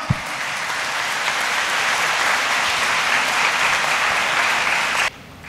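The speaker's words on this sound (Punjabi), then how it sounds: "ਜ਼ੋਰਦਾਰ ਤਾੜੀਆਂ ਦੇ ਨਾਲ ਅਸੀਂ ਨਵੇਂ ਬਣੇ ਫਾਦਰ ਮਰਕਸ ਜੀ ਦਾ ਸਵਾਗਤ ਕਰਦੇ ਹਾਂ" A church congregation at a first Holy Mass claps loudly and steadily for about five seconds to welcome newly ordained Father Marcus, then the applause cuts off abruptly.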